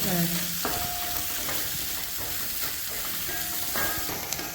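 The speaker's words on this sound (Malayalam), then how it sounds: "മൂന്ന് പച്ചമുളക് വട്ടത്തിൽ അരിഞ്ഞതും കൂടി ചേർത്ത് കൊടുക്കാം ഇത് നന്നായിട്ടൊന്ന് മുരിഞ്ഞു വരണം" Sliced green chillies and ginger sizzle loudly in hot oil for tamarind-ginger pickle (puli inji), with steady frying hiss and a few sharp spatula stirs and scrapes against the pan throughout.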